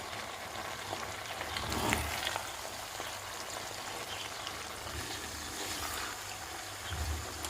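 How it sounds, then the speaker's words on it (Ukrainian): Diced vegetables and onion for Ukrainian bean lecho fry together in a pan, giving a steady, soft rain-like sizzle and crackle close by, with no talking. "перемішую з цибульку і жарю все разом"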